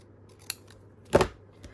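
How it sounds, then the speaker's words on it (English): Scissors trim excess paper in a quiet room, with a short snip followed by a louder, longer crisp cut and a faint final snip. "And then I'm just going to tip it over and cut off the excess."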